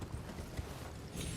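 Horse hooves in Elden Ring, a short run of soft clip-clop steps over a constant background rumble, close and moderate in level.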